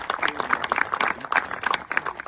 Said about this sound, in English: give them a round of applause because it's their big special day today